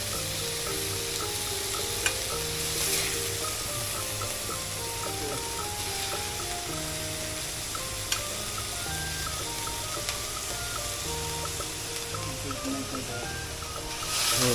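Stir-fried pork choo chee curry with long beans is scooped from a sizzling pan onto a plate: a steady, hissing fry with faint, scattered scrapes and clicks of a utensil and no talking.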